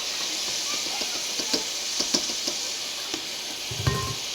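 Vegetables dropped into hot oil with fully cooked-down spices, hissing and sizzling steadily in the pan with soft stirring clicks, a faint, close frying sound under quiet background.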